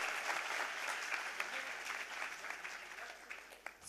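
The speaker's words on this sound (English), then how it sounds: "Please give them a huge round of applause." An audience at a women's leadership conclave claps in a steady, dense round of applause lasting several seconds, at moderate volume and somewhat distant, with faint voices mixed in.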